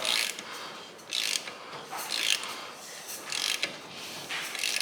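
A ratchet wrench works a bolt loose while a 5.3 engine is taken apart, giving bursts of rapid clicking in an uneven rhythm, close and fairly loud, with no talk.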